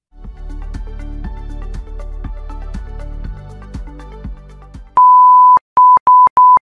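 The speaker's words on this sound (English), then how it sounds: "One long, three short beeps" A computer's AMI BIOS beep code, one long beep then three short ones, loud, steady and evenly spaced, comes right after several seconds of background music.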